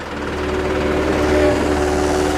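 A tractor engine pulling a vegetable transplanting machine hums at a steady low idle-like drone, close and continuous, with a mild rise in loudness midway and no clear speech.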